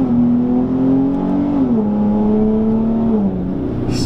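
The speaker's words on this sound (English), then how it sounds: "Dude, the exhaust sounds really good." A deep, throaty Flowmaster-muffled exhaust on an AWD V6 Dodge Charger SE rumbles steadily at a low idle-like pitch, dipping slightly partway through, loud and close with no talk.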